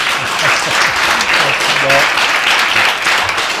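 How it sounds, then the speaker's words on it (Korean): An audience at a Korean carbon-emission reduction symposium gives a warm round of applause, a dense sustained clapping that fills the whole moment with a brief voice surfacing midway. "뜨거운 박수 부탁드립니다"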